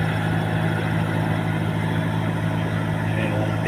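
A steady water pump engine at a fish pond drones continuously with a low, even hum and constant loudness, running nearby without pause.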